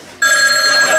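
A telephone starts ringing abruptly after a short quiet moment, its loud, bright electronic ring tone sounding steady and close for the rest of the second.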